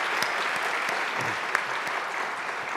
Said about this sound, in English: let me please ask the audience, I'd like to give a round of applause to these 4 distinguished people